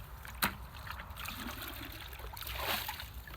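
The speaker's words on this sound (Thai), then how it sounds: "หนูจะเอาน้ำมาล้างปลาหนูก่อน" Water poured and trickling while washing fish outdoors, soft splashing with one brief sharper splash early and a gentle rise in flow near the end.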